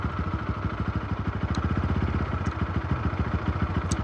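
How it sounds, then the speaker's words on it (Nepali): A motorcycle engine runs at a steady, rhythmic idle-like chug with some clatter, close and loud, on a muddy road during rain. "बाइक त यस्तो हिलो छ कसरी लाने बाइक यार"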